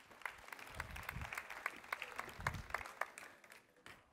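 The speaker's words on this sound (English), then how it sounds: "So please give a round of applause for Daniel while he is sharing his experience." Faint, sparse applause from a small audience at an AWS Summit session in Singapore, scattered individual claps pattering distantly for a few seconds before thinning out.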